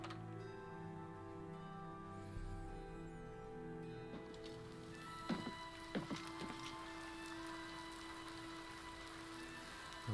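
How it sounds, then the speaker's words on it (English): Rain falling in Oblivion Remastered, a steady soft hiss of drops running throughout under a low ambient music bed, with a few brief louder thumps and taps partway through. "Rain."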